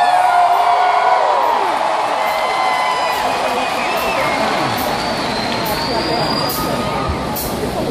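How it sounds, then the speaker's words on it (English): A large concert crowd in Rio de Janeiro cheers and whoops continuously, with a dense wash of voices and whistles staying loud and steady throughout. "You are a sensational crowd."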